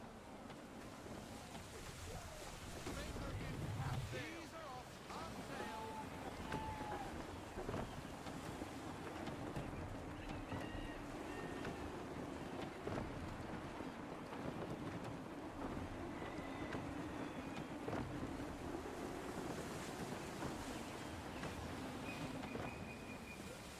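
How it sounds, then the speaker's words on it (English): Steady wind and sea noise at sea in Assassin's Creed III, a continuous broadband roar with a faint low rumble of water beneath and no talk, holding at a constant, fairly quiet level throughout. "Gusty winds can be difficult to manage"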